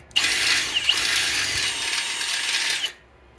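A power drill bit widening a hole in an aluminum bicycle rim, a loud close steady grinding whine for about three seconds that then cuts off abruptly.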